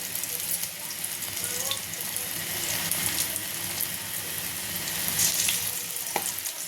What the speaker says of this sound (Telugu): ఇప్పుడు నేనైతే పకోడీ వేస్తున్నాను